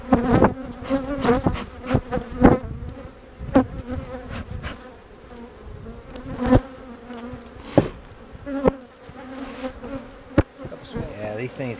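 Honeybees buzzing around beehives in an apiary, a steady close swarm hum with individual bees zipping past the microphone in repeated loud passes.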